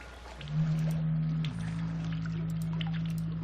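A low, drawn-out whale call in the Dark Fall 2 video game: a steady moaning tone that shifts pitch midway and hums on, with faint watery ambience behind it and no talking.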